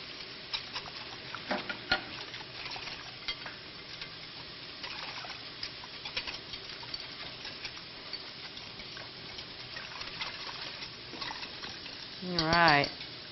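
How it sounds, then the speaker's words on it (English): Quiet, irregular scraping and tapping of a whisk stirring egg yolk, milk and flour together in a bowl, with soft clinks scattered throughout and a short louder clatter near the end. "Whisk that together"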